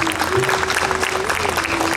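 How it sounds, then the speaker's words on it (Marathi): School gathering audience at a reunion programme of New English High School, Nagpur, applauding loudly with dense, continuous clapping from a crowd for the full short stretch. "त्यांच्याप्रती कृतज्ञता व्यक्त करण्याकरता जोराने टाळ्या वाजवू आपण"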